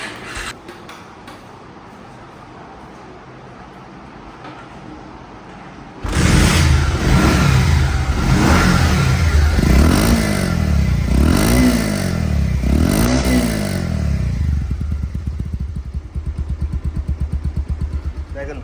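A Bajaj Pulsar motorcycle engine idles, then roars up loudly and revs repeatedly in rising and falling bursts before settling back to a steady, close idle.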